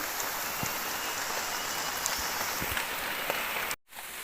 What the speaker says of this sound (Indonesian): hujannya dari tadi belum reda-reda, udah hampir 1 jam